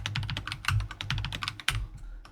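Rapid keyboard shortcuts tapped on a computer keyboard during an Excel speed challenge, a dense run of close, crisp key clicks in quick bursts, with a louder thump near the end before trailing off.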